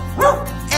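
Two quick, loud bark-like woofs close by, the second cut off, over a faint steady musical backing, within the English children's song "Bingo" ("There was a farmer had a dog").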